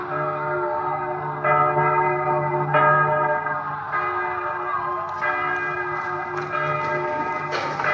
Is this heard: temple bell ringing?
yes